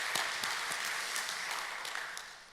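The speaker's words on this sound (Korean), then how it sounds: "박수로 한번 영광 돌릴까요?" Faint, distant applause from a church congregation during a Sunday worship service, a thin scattering of claps with a few louder individual hits, fading slightly toward the end.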